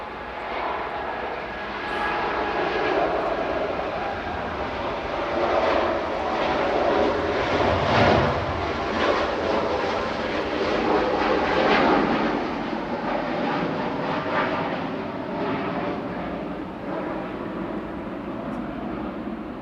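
An Etihad Boeing 787-9 Dreamliner departs Manchester Airport, its jet engines giving a steady, broad roar that swells slightly in the middle and holds for the whole stretch, with no voices over it.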